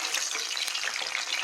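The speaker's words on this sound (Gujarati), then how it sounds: "હવે આપણે જે લસણનો પેસ્ટ બનાવેલો છે તે એડ કરી દઈશું." Garlic paste sizzles in hot oil after a fenugreek tempering, making a brief, constant, crackling fry sound up close.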